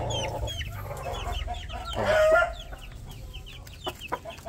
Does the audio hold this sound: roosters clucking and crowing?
yes